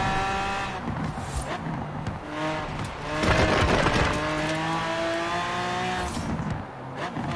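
A car in Forza Horizon 4 cruises along a dual carriageway with a steady, loud engine drone that rises and shifts in pitch through gear changes, with brief rushes of road and wind noise.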